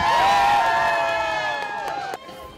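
Crowd cheering and applause greet medal winners at the PyeongChang Special Olympics ceremony, a loud, steady wash of voices and whoops with a few sharp claps, layered over background music and fading slightly at the end.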